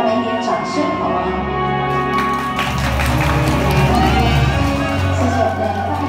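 Audience at an event cheering and clapping: a loud crowd swell with whoops and scattered claps under sustained music, staying dense and busy throughout.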